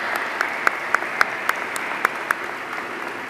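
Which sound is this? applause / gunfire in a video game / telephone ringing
applause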